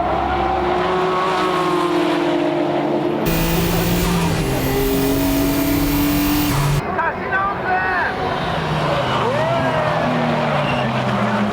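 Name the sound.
racing cars accelerating, Nismo GTR being passed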